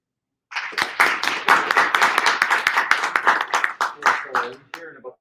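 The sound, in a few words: audience applauding to vote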